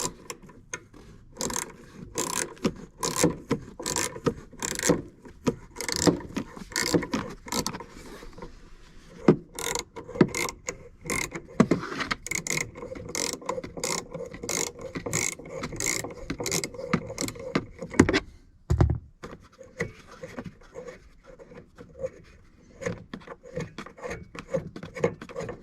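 Plastic trim on a 2018 Jeep Wrangler JL tail light is worked loose by hand, making a close series of sharp clicks, scrapes and rubbing snaps in an uneven rhythm, with short pauses between bursts.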